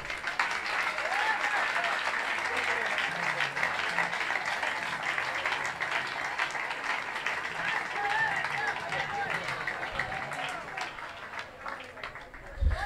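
A church congregation applauds during a Spanish-language sermon, sustained dense clapping from a sizable crowd that holds steady for over twelve seconds, with voices mixed into the applause.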